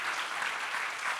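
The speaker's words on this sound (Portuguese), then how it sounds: "eu queria pedir uma grande salva de palmas para esses 45 lutadores que estão com a gente" An audience at the opening of the Itabira literary festival in Brazil applauds with steady, dense clapping that carries evenly through the whole short stretch without voices.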